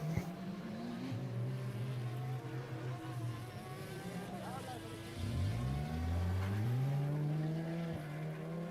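A race car engine drones at Silverstone in a sim racing event at night, the pitch sliding down and climbing again as it works through the esses, with a commentator talking over it.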